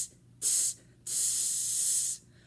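A voice imitates a snake hiss as a rhythm sizzle, giving one short burst followed by a longer sustained hiss, both close and loud with nothing else behind them.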